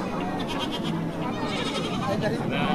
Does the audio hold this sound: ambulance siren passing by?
no